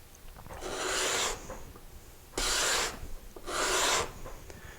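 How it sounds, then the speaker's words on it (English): A tuned card scraper shaves a wooden surface in three rasping strokes, each about a second long with brief pauses between, close and steady over a low background hiss. "Now you can see more shavings coming off of there. So that is a nicely tuned up card scraper."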